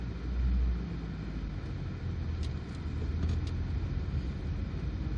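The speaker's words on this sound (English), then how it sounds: "let's put this R65 gearbox into the right position and off" A 2001 Mini Cooper 1.6 (R50) drives off: a low, steady engine and road rumble with a brief heavier swell early on, heard from a distance with no talking.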